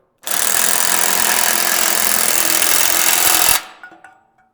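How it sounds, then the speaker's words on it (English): A power tool tightening a bracket on a steel squat rack runs in one loud, steady buzzing burst of about three seconds, then stops abruptly, leaving a brief fading rattle. "I'm just gonna go ahead and tighten it with the power tool."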